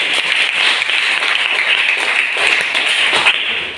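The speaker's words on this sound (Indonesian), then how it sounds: "kita berikan aplaus untuk Sahrul" A classroom of students claps for a classmate who has just answered a chemistry question. The dense, steady applause carries on at close range through the whole moment, with no voices over it.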